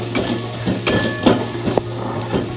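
Dried oregano, chili flakes, turmeric and salt stirred in a sizzling pan, a spoon scraping and clinking against the metal in a few soft strokes over a steady frying hiss.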